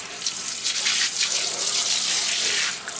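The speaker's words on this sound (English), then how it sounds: "I'm going to kind of rinse it off now and see what we're working with." Tap water running steadily as cleaner is rinsed off a surface during household cleaning, a close, continuous hissing splash with slight fluctuations and no talk.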